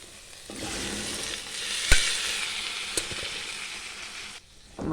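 Cooked chickpeas tipped into a hot pan of curry base sizzle steadily and loudly up close, with a couple of sharp clinks from a spoon against the pan before the frying hiss cuts off.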